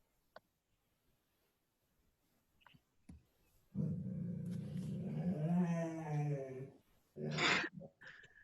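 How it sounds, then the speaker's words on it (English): A dog growls indoors right beside a person, a low, sustained rumbling growl lasting about three seconds, then a shorter burst after a brief pause, close and fairly loud in an otherwise quiet room. "he's like sitting here growling beside me"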